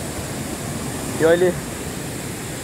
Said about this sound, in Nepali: र यहाँ यता पनि पानी बगिरहेको अवस्था छ।